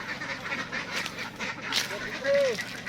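Domestic ducks (itik) being raised and loaded on a duck farm quack in scattered bursts over a steady background, with one clearer nearby call near the end; a voice is also present.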